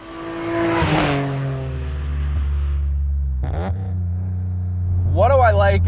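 A Euro-spec BMW E36 M3 engine revs hard and pulls through the gears, loud and close with falling pitch sweeps at each shift, then a quieter stretch and a sharp rising rev, with a voice speaking over it.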